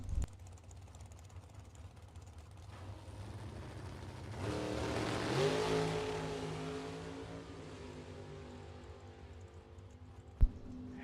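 A short wheelbase dragster races down the drag strip, heard faint and distant as an engine note that swells and rises in pitch, then fades away. A single sharp knock follows near the end.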